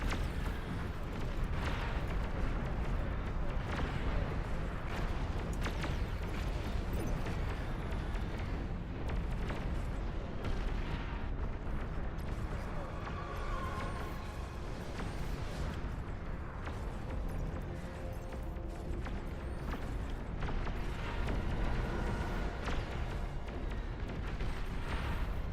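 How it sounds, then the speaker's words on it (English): Heavy, continuous barrage of booming explosions and artillery-like fire from super mortars in a large real-time strategy battle in Beyond All Reason, dense and loud throughout with overlapping blasts. "they're starting to get the super mortars that will bounce off everything"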